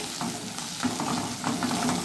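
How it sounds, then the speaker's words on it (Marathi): Onions browning in a pan for rajma masala, stirred steadily while they fry, with a continuous close sizzle and soft scraping strokes throughout. "आपला कांदाही व्यवस्थित तांबूस होत आलेला आहे"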